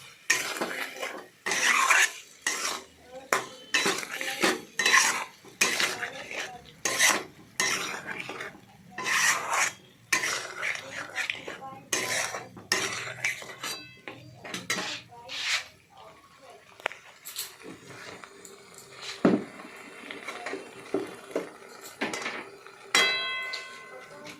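Spoon scraping and stirring in a pan of stingray fish curry with tomato and turmeric, repeated rhythmic rasping strokes and clinks, close and fairly loud, with a few pauses.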